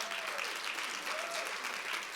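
A church congregation bursts into applause during a Spanish-language sermon, steady and dense clapping filling the whole moment at a moderate distance, with no voices standing out.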